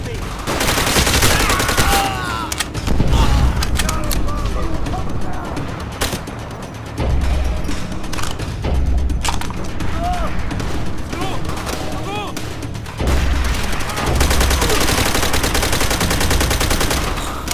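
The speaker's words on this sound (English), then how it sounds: "Shoot through the damn wall!" Dense battlefield gunfire from Call of Duty: World at War, the opening Semper Fi beach mission on Veteran difficulty, with rifles and machine guns firing in loud continuous bursts and booms while soldiers shout over it.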